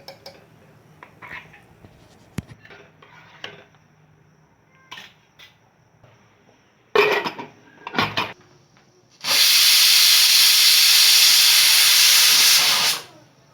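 A pressure cooker of dal with hing and turmeric sits quiet through a few clicks and knocks, then lets out a loud, steady hiss of steam for about four seconds before cutting off.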